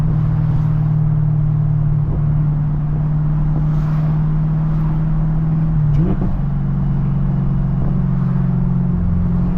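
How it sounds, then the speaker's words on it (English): Supercharged Camaro ZL1 with a manual gearbox heard from inside the cabin: a steady loud engine drone and whine that shifts pitch abruptly partway through as the driver downshifts, then settles at a new steady note. "I love that downshift."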